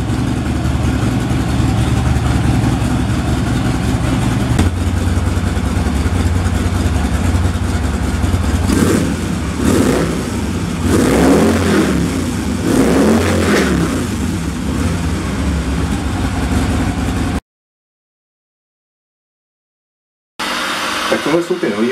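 A Harley-Davidson motorcycle with old exhausts rumbles at idle, then revs up several times in quick bursts, loud and close, before cutting to silence.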